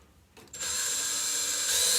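A power drill starts up and runs steadily at a high whine, close and loud, after a brief quiet moment, drilling out a rivet on an RV-14 aircraft.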